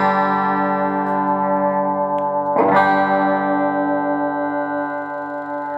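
Electric guitar played through a Hiwatt HI-5 amplifier while its mid-range control is swept, giving sustained distorted chords whose tone shifts gradually, loud and close with no talking.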